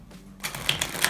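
A deck of playing cards is riffle shuffled in a quick close burst, the corners flicking and rattling rapidly against each other in a dense crisp flutter lasting about a second.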